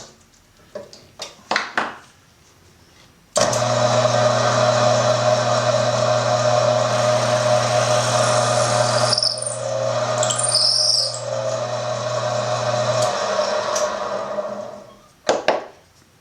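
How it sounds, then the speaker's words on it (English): A steady, loud mechanical whirr of a drill boring a stepped hole into a wooden file handle runs for about ten seconds, with short bursts of handling noise before and after. "We'll use the next size of drill and drill down"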